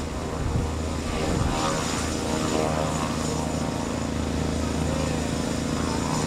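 A propeller airplane drones steadily and loudly throughout, a constant engine roar near at hand, as it returns to an airfield in Haiti during an aid and water-filter relief trip.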